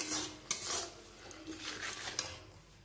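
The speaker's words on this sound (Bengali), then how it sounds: "দিয়ে এবার মশলাটা আমি খুব ভালো করে কষিয়ে নেব যতক্ষণে গন্ধটা না যাচ্ছে।" Quiet scraping and clinking of a spoon against a pan as turmeric, chilli powder and salt are stirred and sautéed for aloo dum, with a few sharper metallic taps amid soft rubbing strokes.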